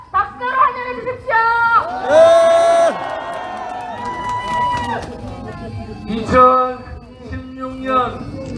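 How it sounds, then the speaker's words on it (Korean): Crowd cheering and shouting at an outdoor Taegukgi political rally in Daegu, loud and sustained with swelling bursts, mixed with amplified voices and chanting over the throng. "여러분 다시 한번 큰 박수로 환영해 주십시오"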